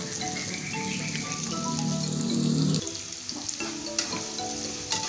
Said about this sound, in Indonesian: Kita tumis bersama dengan bawang dan margarin.